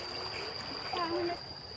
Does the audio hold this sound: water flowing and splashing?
yes